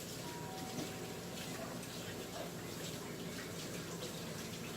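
Hands being washed under a running kitchen tap while baking, a steady rushing stream of water with splashing throughout, and a voice faintly underneath.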